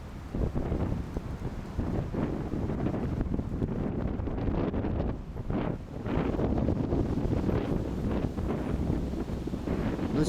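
Gusty wind blowing down Khimikov Street in Omsk during a squall, a constant roaring rush buffeting the microphone, swelling and easing slightly in waves, loud and close.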